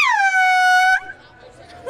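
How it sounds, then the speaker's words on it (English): A single loud air horn blast at a university commencement procession holds a steady, bright, harmonic tone for about a second and then cuts off, leaving faint crowd murmur. "That was an air horn."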